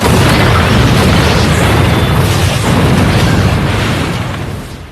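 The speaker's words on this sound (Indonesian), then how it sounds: "dia menemukan sebuah bom yang tiba-tiba" A bomb blast in an action film hits as a loud, sustained roar of boom and rumble that fills the full five seconds before easing slightly at the end, with no voices.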